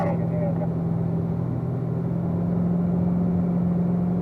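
A Corvette Z06 on a race track holds a steady engine drone at constant throttle, a loud, even hum that continues without a break from start to finish.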